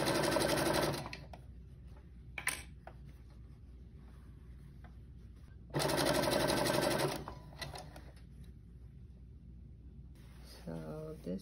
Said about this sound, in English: Start your stitch with a back stitch and then continue sewing, making sure everything is catching in between.